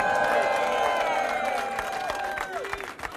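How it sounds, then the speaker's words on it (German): An arena crowd applauds handball player Matthias Musche after a last-second win over THW Kiel, with clapping and cheers under prominent sustained music tones that fade toward the end. "Und das ist dein Applaus, Matze Muscher."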